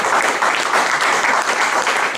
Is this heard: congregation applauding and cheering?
yes